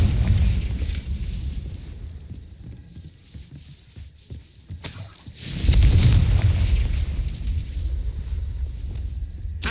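A Confringo fire spell blast in the Hogwarts Legacy video game, a heavy booming explosion that swells in and rumbles low, with a sharper crack followed by a sustained thunderous roar and fading rumble.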